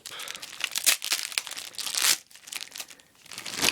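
A taped-up plastic bag wrapped around a Turkish Mauser bayonet is handled close by, with bursts of loud crinkling and crackling plastic and brief pauses between them.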